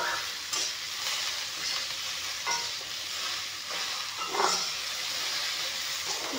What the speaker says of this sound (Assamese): এতিয়া অলপমান ভালকৈ লাৰি দিম।